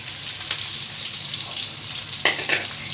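Tomatoes fry in a pan for puli kulambu with a steady close sizzle. A few soft stirring scrapes come through near the end, and no one speaks.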